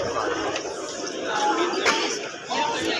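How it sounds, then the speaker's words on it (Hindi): A crowd presses around a tasting counter at a busy indoor food festival in Delhi, with dense, close chatter from many voices filling the space. "फ़िलहाल इस काउंटर पे काफ़ी ज़्यादा भीड़ लगी हुई है"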